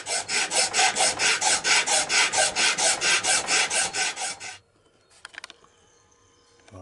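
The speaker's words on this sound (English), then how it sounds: "I need to put some sandpaper on a flat surface and try and sand it down that way" Steady rhythmic rasping of a Triumph T140 points cover being rubbed back and forth on sandpaper laid on a flat surface, loud and close for about four seconds, then stopping, with a few faint clicks afterward.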